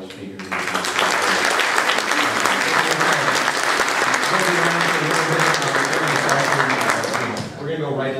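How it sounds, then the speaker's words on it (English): A large conference audience applauds the panel speakers at a tax policy event, loud dense clapping that starts abruptly, holds steady for about seven seconds and then tapers, with voices murmuring underneath. "I'd like to give a round of applause for all our speakers"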